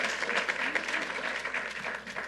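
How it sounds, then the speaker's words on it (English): Sustained audience applause at a public gun safety announcement in North Hempstead, honoring the county executive, a dense, steady wash of clapping from a crowd, moderately loud throughout with no pauses. "Let's give our county executive another round of applause."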